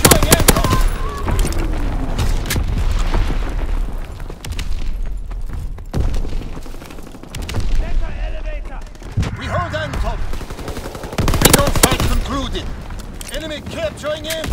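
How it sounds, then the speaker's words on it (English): A fighter plane strafes in a video game battle: rapid machine-gun bursts and heavy booming impacts roll on continuously, loud and dense, with voices talking over the gunfire. "Fighter pilot inbound, strafing the target."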